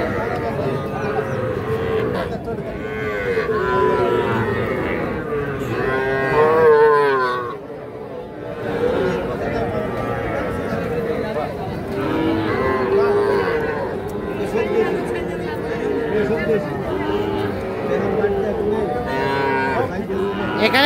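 Young bull calves, around three months old, moo repeatedly at a busy rural cattle market in Bangladesh, their calls rising over constant crowd chatter and bargaining voices throughout.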